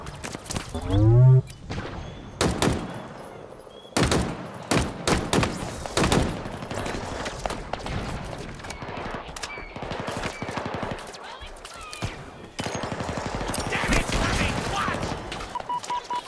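Enemy gunfire from the video game Halo Infinite, with loud rapid bursts of automatic fire and single shots, close and dense through much of the stretch, with a player's voice speaking over it.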